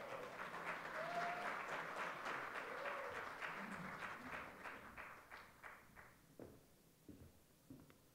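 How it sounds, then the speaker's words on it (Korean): Sustained applause from an audience at a memorial event marking a former president's death anniversary, steady and full at first, then thinning into scattered individual claps before fading out. "큰 박수로 맞이해 주시기 바랍니다."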